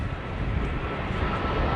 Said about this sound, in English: I hear a plane coming.